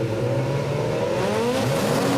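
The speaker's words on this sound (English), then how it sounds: "Love the noise of a car going into gear. Just clunkety clunk." Rallycross race car at Arvika, Sweden, idling and revving steadily on the start line, a loud close engine drone with rising pitch and no talk over it.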